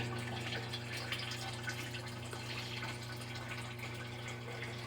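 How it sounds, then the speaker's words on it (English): Water runs into a GE washing machine during filling, a faint steady trickle with low pump-like hum heard up close, no talking. "You still see the water running in there."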